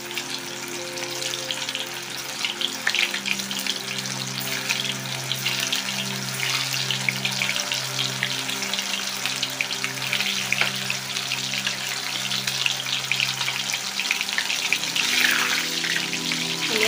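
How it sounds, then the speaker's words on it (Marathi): Soya 65 pieces fry in oil with a steady bubbling sizzle, a continuous moderate hiss with a low humming tone underneath throughout. "राहिलेले अजून आपण तळून घेऊया."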